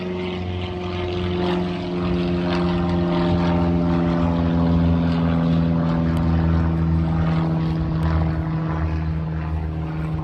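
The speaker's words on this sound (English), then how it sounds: "so every so often the planes will be going" Propeller airplanes fly near an airport, making a loud, steady droning hum with strong low harmonics that holds for the whole stretch without talk.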